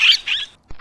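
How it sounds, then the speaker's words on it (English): Parakeet calling in two quick, bright chirps, close and fairly loud, followed after a brief pause by a fainter, shorter chirp. "parakeet,"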